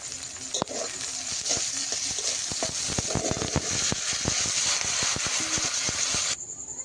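Onion and panch phoron fry in reddish oil left from frying fish. A continuous close sizzle carries frequent sharp scrapes and clicks from a stirring utensil, then cuts off abruptly near the end.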